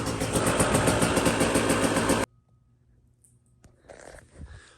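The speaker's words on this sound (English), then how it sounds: "so we got the bike started" A motorcycle engine idling loud and steady right after its first start in four years, cutting off abruptly partway through, followed by quiet room noise and a few faint knocks.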